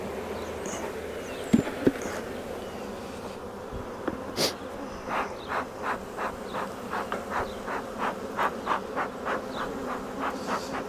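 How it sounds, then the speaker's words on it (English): Honeybees in a hive buzz close by, with a faint, steady hum that swells into a regular series of pulsing surges, after a couple of brief knocks near the start. "Yeah, they are some mean bees."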